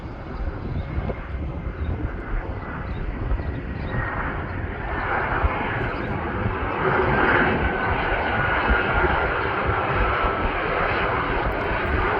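A CRJ 200 regional jet in Air Wisconsin retro livery, flying United Express service from Chicago to Milwaukee, produces a steady, broadband engine roar from a moderate distance that builds slightly and holds throughout, with no talking.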